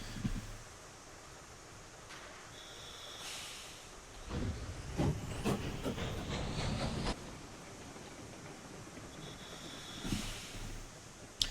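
Steam locomotive chuffing in the Railroads Online video game: a soft steady hiss rises into a few seconds of rapid rhythmic chuffs, then fades back to hiss with a brief later puff, fairly quiet.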